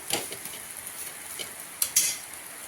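Thalipeeth flatbread roasts on a hot pan with a faint, steady sizzle, with a couple of light scraping clicks near the end.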